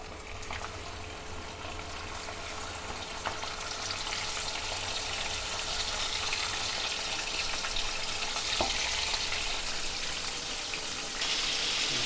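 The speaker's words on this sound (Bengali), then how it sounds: "তেল গরম হয়ে গেছে, এবার চিংড়ি মাছটা দিয়ে দেবো।" Prawns frying in hot mustard oil give a steady, loud crackling sizzle that holds for the whole stretch, with a few sharper pops and a brief brighter burst near the end.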